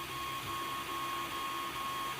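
An Ender 3D printer printing ABS with the nozzle at 235 and the bed at 110 degrees Celsius, giving a quiet steady stepper-motor whine and hum that is faint and unbroken.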